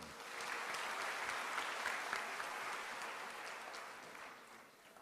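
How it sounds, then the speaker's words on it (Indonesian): Sustained applause from a large audience at a Universitas Jember graduation ceremony, greeting 702 graduates, a dense steady roar of clapping heard from some distance that fades slightly toward the end. "tepuk tangan untuk semuanya."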